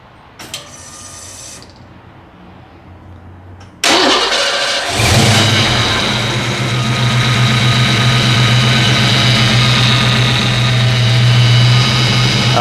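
A 1989 Ford Mustang LX with a 5.0 V8 cranks over after a quiet stretch, catches with a loud roar, then settles into a steady, rumbling idle close by.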